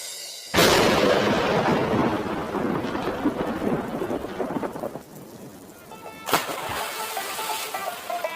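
Steady heavy rain with rumbling thunder by a canal-side house, loud and continuous, with a sharp thunder crack near the end.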